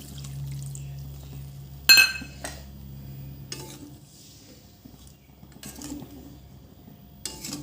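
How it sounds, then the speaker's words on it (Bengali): Thin hilsa fish broth is poured into a cooking pan, with a sharp metallic clink from a utensil and soft liquid splashes between quiet pauses in a kitchen. "একটু ঝোল দিয়ে দেবো।"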